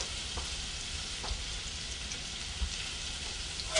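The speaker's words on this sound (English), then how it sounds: "I'm going to drop a little onion in here. And if it bubbles right around it, that means it's ready." Onion dropped into hot oil to test it, frying with a steady close crackling sizzle, continuous and fairly faint, with a few small pops.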